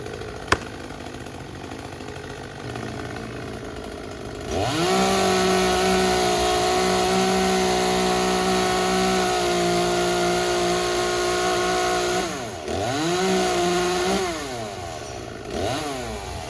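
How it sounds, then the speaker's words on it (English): A chainsaw cutting a tree revs up and runs steadily at high pitch for several seconds, dips briefly, then revs again before easing off. "using the chainsaw"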